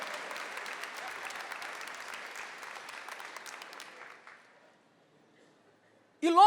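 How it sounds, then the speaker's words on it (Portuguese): A crowd applauds steadily for about four seconds, then the clapping thins and fades to near silence before a sudden loud burst at the end. "Vamos aplaudir o seu Milton."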